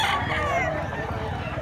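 A rooster crows at a rural market in Mantalungon, Cebu, a short drawn-out call at middle distance amid background chatter.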